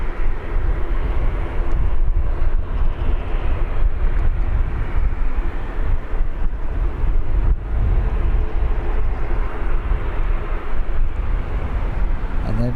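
Aircraft engines roar steadily at Birmingham Airport, a small Cessna Citation business jet among the traffic, a loud continuous broadband rumble with wind buffeting throughout.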